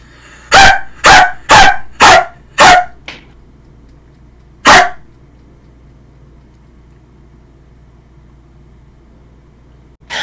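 Someone in VR Chat imitates a dog, giving five quick loud barks in a row, then one more after a pause, followed by quiet.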